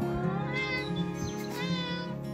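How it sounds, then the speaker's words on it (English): A black cat meows in a drawn-out, wavering call, then meows again, close by with no talking. "The elusive black cat."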